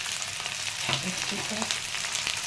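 Ginger, onion and capsicum sizzle steadily in a hot pan for a mushroom Manchurian, a continuous close frying hiss with a few brief stirring clatters partway through and no talking.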